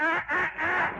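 A voice imitates a duck's quack with a few nasal, raspy honks in quick succession, loud and close, with no other sounds behind it.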